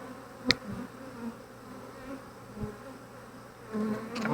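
Honey bees buzz around an opened Flow Hive during an inspection, a faint steady drone with individual bees passing close at moments, plus a couple of brief clicks or knocks from handling the hive.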